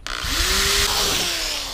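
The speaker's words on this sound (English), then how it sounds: "Time to finally drill into this" A power drill spins up and bores into a metal license plate spoiler, a loud whining motor with a rising pitch then steady grinding, heard up close and alone.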